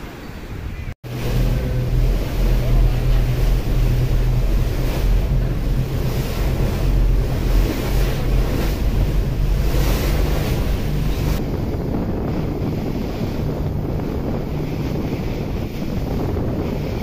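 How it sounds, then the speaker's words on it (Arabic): Waves washing onto a beach at Nusa Penida, a loud continuous surf roar with heavy wind buffeting the microphone and a faint low engine hum, no talking. "مزيون هاد الشاطئ هادا عندهم مزيون"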